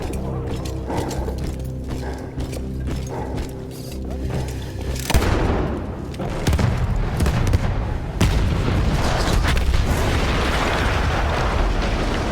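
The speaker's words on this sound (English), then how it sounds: "That explosion was one of the sweetest sights of the war for me" In a Battlefield 1 war cutscene, an artillery gun is blown up: mechanical droning gives way to a sudden, loud blast, followed by a long, heavy rumble with crackling debris.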